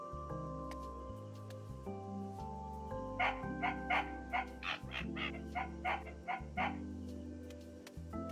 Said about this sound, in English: That was kind of a weird bark.